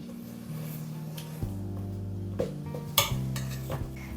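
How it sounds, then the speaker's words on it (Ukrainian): A spoon scrapes and clinks against a metal pot in steady stirring strokes through sugar syrup, with a low hum underneath and no talking. "Треба постійно-постійно помішувати."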